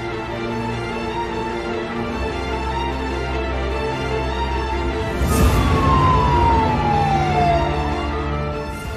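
A wailing emergency siren sweeps down in pitch over a constant loud engine rumble, close and dominant.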